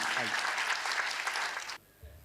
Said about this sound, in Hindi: एक बड़े व्यक्तित्व के लिए बड़ी तालियां उनकी